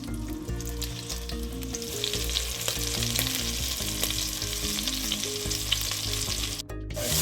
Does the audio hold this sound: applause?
no